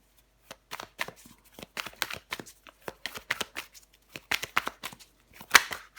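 Tarot cards handled and laid onto a table: a string of quick, light papery slaps and shuffling flicks in an irregular rhythm, close and soft, with no voices.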